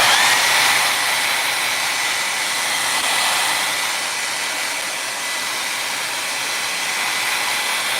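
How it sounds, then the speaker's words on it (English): A hair dryer blows steadily to dry paint on a forest-scene painting: a loud, continuous, close airy whoosh with no talking over it. "I am gonna dry this with my hair dryer so I can put some green on top of it now."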